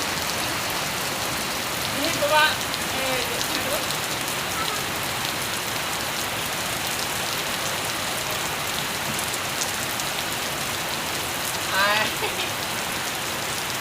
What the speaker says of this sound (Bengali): মানে সকাল থেকে শুরু হয়েছে পুরো বৃষ্টি